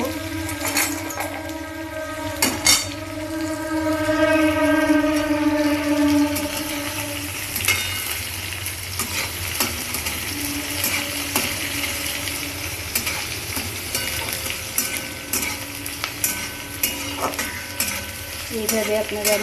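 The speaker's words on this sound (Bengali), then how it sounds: "পেঁয়াজটা ভাজা হোক।" Onions fry in a pan of spiced oil for a banana-flower (mocha) curry, a steady close sizzle broken by repeated scraping and clinking of a spoon stirring against metal throughout.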